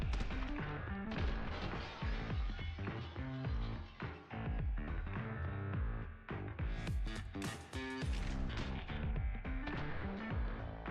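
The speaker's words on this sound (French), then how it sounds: "je tire 20 balles là" Relentless gunfire in the action shooter The Hong Kong Massacre, dense overlapping shots and impacts from many rounds fired in rapid succession, loud and close over a busy game soundtrack with no talking.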